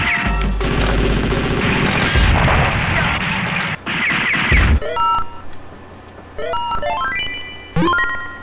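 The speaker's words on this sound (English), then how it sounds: "Oh, those blasts take a lot out of your life." Rocket launcher blasts in the 1997 Neo Geo arcade shooter Shock Troopers, a loud, harsh crashing roar lasting several seconds. Bright electronic game beeps and chirps follow.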